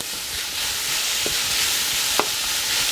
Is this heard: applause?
no